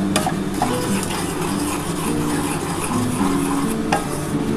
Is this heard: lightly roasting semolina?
yes